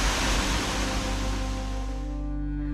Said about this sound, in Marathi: हा नॅचरल आहे धबधबा.